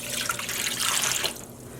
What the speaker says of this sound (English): Now if I pour water on top of this